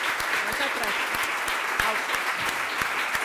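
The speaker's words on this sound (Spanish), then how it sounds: "me gustaría despedirles con un fuerte aplauso." A large audience at the 81st Madrid Book Fair gives loud, sustained applause, a dense roar of clapping hands at close range that holds steady throughout.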